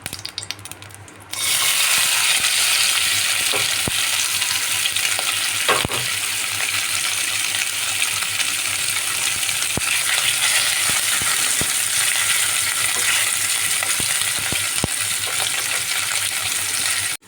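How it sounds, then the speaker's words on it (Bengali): Fish bones coated with salt and turmeric hit hot oil and burst into a loud, dense, steady sizzle, with scattered faint clicks and scrapes from stirring. "আমি নুন হলুদ মাখিয়ে রাখা মাছের কাটাগুলো বেজে নিচ্ছি"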